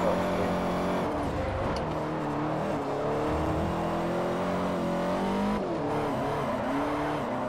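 A modified 556 HP front-wheel-drive Volkswagen New Beetle engine drones and revs steadily in Forza Horizon 4, shifting pitch as it accelerates, loud and continuous with a game-like racing quality.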